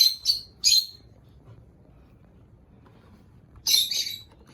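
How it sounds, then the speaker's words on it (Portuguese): Small birds chirp around a home, with two quick bursts of bright calls near the start and a longer, louder cluster toward the end, separated by a quiet stretch of low background noise. "Nós temos companhia dos passarinhos aqui na minha casa."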